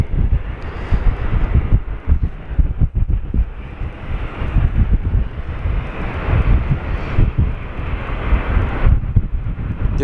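Airplane taking off at windy Sydney Airport, a loud sustained jet engine roar with heavy wind buffeting the microphone throughout, no voices.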